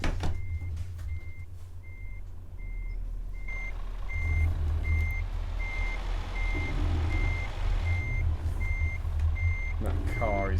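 Scania R truck in Euro Truck Simulator 2 backing up, with a steady train of evenly spaced reversing beeps over a loud low engine rumble that swells midway, plus a brief air hiss near the end.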